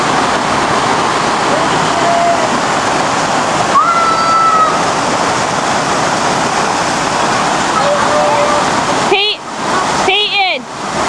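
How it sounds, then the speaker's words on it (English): Waterfall: broad, loud, steady rushing water fills the whole clip, with a few brief children's calls and voices near the end. "Yeah, I knew you'd like the waterfall."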